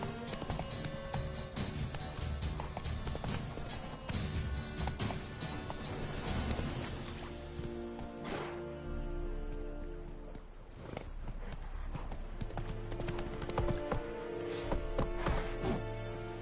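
A horse's hooves in the video game The Witcher 3, beating in a fast, steady, continuous clatter throughout, with game music and ambience underneath.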